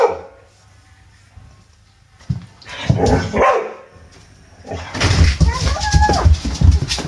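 Dog barking and whining indoors during a family Christmas gathering, with excited yips and whimpers rising after a quieter start, mixed with people talking nearby.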